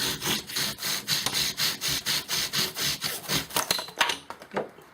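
A bow drill spindle spins against a wooden fireboard in long, even back-and-forth strokes, a loud, close, rhythmic grinding whir that speeds up and grows more ragged toward the end.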